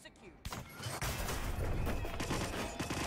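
An enemy's gunfire in the stealth game Hitman, a burst of rapid shots that rings out loudly after a short quiet opening and keeps crackling under excited talk from players.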